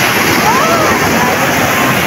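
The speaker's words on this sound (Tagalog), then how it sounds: "Oh, lalaki po ng alon." Big ocean waves roll and slosh in a steady, loud wash of surf with a faint whistling tone drifting through, while a person speaks over the water.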